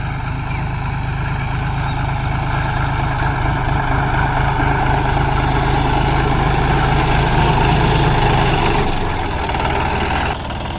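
A tractor engine idles close by on a farm with a steady, deep, throbbing rumble, easing down near the end.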